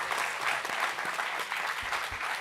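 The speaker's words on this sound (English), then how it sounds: "final applause for the recipients of these awards" Steady applause from a convocation audience at the Asia School of Business graduation ceremony for the class of 2024, a dense, even wash of many hands clapping at moderate distance with no talking.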